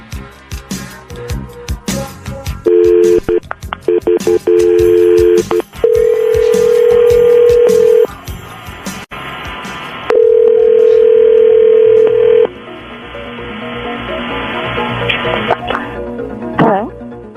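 Telephone tones while a three-way call is dialed: sustained dial-tone bursts alternate with short beeps and clicks of number entry, loud and close, ending in faint line noise with no voices.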